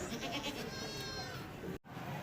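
An eight-toothed Shamudi and Azampuri cross goat bleats at a livestock market, a drawn-out wavering cry heard close, followed by a brief cut and a return of background noise.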